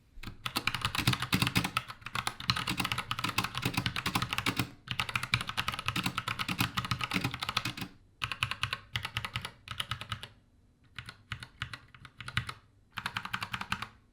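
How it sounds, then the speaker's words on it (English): Mechanical keyboard fitted with brown switches being typed on at a steady, close, crisp clatter of keystrokes, in bursts separated by brief pauses, with no voices. "for a quick sound test, this is what the brown switches in mine sound like"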